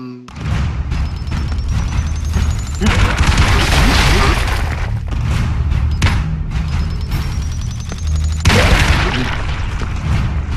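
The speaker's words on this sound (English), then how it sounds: "I love how they drop bombs." Bombs explode in rapid succession in the action video game BroForce, a dense run of booming blasts and crackling debris with gunfire mixed in, loud and continuous, while players talk over the chaos.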